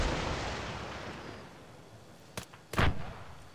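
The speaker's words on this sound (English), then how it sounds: "AT-4 shot out." An AT-4 rocket launcher fires in the ArmA 3 video game with two sharp blasts, a short crack followed by a louder, longer boom, over a steady background rumble of wind or distant battle noise.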